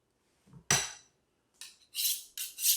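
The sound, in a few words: boning knife being set down on the cutting board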